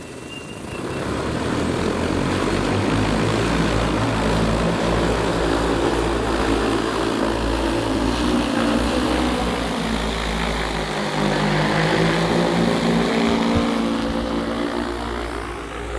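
A J150 agricultural spray drone flying over a terraced field gives a steady, loud propeller drone with a low hum and broad whir that holds constant for the whole stretch.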